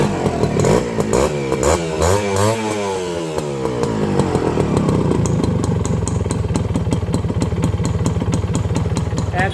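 A Honda CDI H100S motorcycle engine starts and revs up, its pitch rising and falling, then settles into a close, loud, rapid idle with faint road noise nearby.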